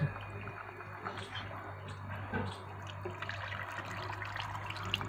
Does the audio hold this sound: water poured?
yes